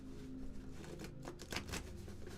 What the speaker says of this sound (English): Okay, so I'm just shuffling these cards.